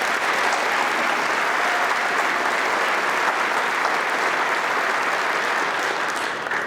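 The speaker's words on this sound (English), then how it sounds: "Let's give them a warm round of applause." Steady, dense applause from a large audience honoring graduates at a KVCC graduation ceremony, filling the hall evenly at full volume and holding without a break for several seconds.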